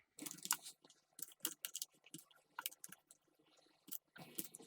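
Rapid clicking keystrokes on a computer keyboard as an invoice number and date are entered in Tally accounting software, irregular bursts of taps, close and fairly quiet, with no talking.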